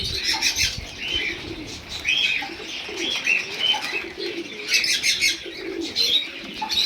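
A flock of Madras pigeons in Kolkata coos and chirps close up, with repeated wing flapping and steady layered calls throughout, no voices over them.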